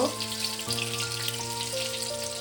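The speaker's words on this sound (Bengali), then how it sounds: "আর একটু ভালো করে ভেজে নেব" Steady sizzling of tomato chops frying in hot oil, close and continuous, with a low hum running underneath and no talking.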